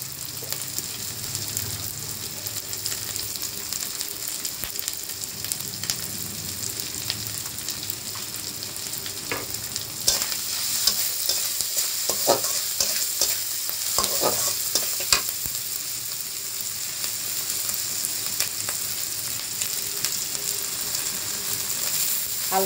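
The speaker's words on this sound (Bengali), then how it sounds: "হালকা জল দিয়ে মশলাটাকে কষে নেব।" A spice paste seasoned with a little sugar and salt is stir-fried in a pan: a continuous close sizzle under repeated scraping and clattering strokes of a utensil, which grow busier midway, with no talk.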